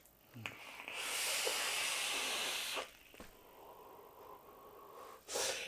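A vaper draws and exhales a cloud from a rebuildable e-cigarette atomizer, heard as a close, steady airy hiss lasting a couple of seconds, followed by softer breathy sounds and a brief final puff.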